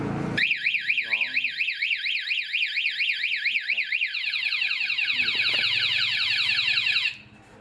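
Anti-theft alarm on a GPX motorcycle wails loudly and close by in a rapid warbling siren that changes pattern partway through, then cuts off abruptly, with a voice speaking briefly underneath.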